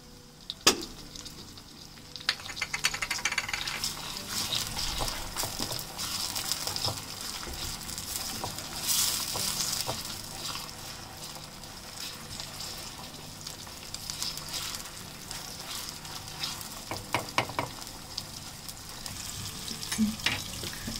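Tomatoes sizzle and fry in a pan for a chicken mince and peas dish, with a steady crackle and intermittent clinks and scrapes of stirring throughout, close and moderately loud.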